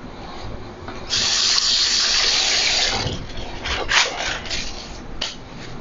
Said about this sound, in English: Just let that water all strain off